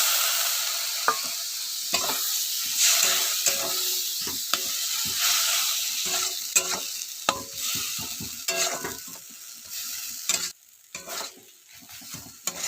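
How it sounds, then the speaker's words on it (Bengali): Spices for a vegetarian soybean curry sizzle steadily in a pan, with frequent scraping stirs and the occasional clink of a spatula close by, and no talking. "মশলা কষানো হয়ে গেছে"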